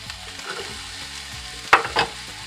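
Carrots stirred into roasting vegetables in a pan for turkey and vegetables, a close sizzle with soft scraping and two sharp clatters near the end, with no talking.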